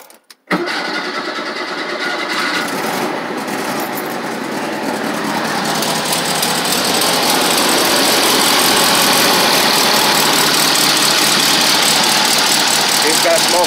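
A Volkswagen car engine cranks and catches after a quiet start, then settles into a steady, close, loud idle that gradually grows fuller and holds to the end.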